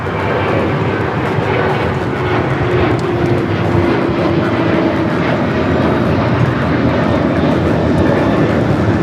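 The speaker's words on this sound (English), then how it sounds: "1865 taking off to Puerto Vallarta on the 737-800" A Delta Boeing 737-800 airliner takes off from LAX, its engines producing a loud, sustained roar that holds steady throughout at moderate distance, with no talk.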